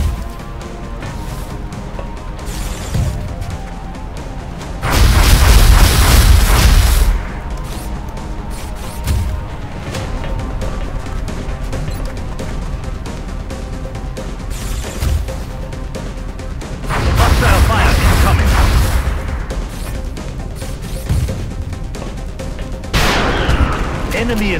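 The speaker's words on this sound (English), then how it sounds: "Hostile fire incoming." Bursts of gunfire and explosions in the video game XCOM Long War, loud broadband volleys recurring in a few heavy clusters over a continuous game soundscape, with occasional voice lines.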